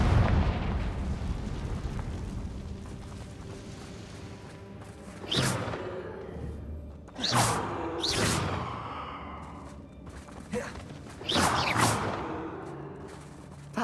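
Fire-spell explosions in the Hogwarts Legacy video game, cast against a band of goblin loyalists: four sharp, booming blasts spaced a second or two apart over a rumbling background of game ambience, each decaying quickly.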